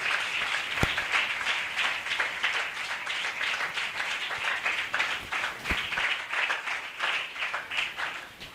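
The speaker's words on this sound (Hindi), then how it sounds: "यीशु मसीह के लिए जोरदार तालियां बजाएं।" A church congregation claps loudly and steadily in praise of Jesus Christ, a dense, continuous wash of many hands with a couple of sharper single claps standing out, filling the room.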